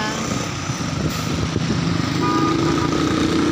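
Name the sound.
motorcycle passing on the road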